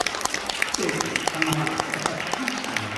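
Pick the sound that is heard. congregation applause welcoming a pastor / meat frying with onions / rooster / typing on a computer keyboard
congregation applause welcoming a pastor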